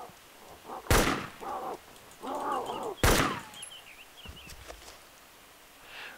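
Two sharp, loud gunshots from the game DayZ ring out a couple of seconds apart, with quieter voices and game sounds in between.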